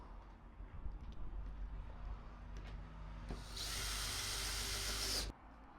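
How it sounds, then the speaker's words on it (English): A power drill whirs steadily for a couple of seconds, drilling through pilot holes for screws in wood, after some handling and rubbing noises on the wood, then stops abruptly. "Now I'm just going through the pilot holes and drilling down a bit more for the screws"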